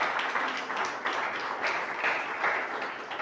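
A church congregation applauds the Lord, a brief burst of mixed, uneven clapping from many hands at moderate loudness with no voices over it.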